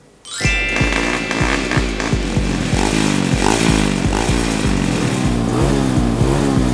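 A small motorcycle engine starts and revs repeatedly in quick rhythmic bursts, loud and close, with a raspy buzzing tone throughout.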